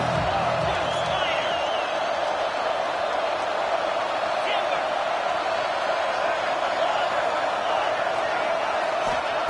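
Dense stadium crowd roar from a college football video game, NCAA 26, swelling before a big third down at an Ole Miss home game, a steady loud wash of cheering with scattered whoops, held evenly throughout.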